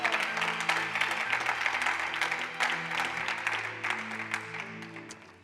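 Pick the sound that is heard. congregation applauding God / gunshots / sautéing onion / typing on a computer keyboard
congregation applauding God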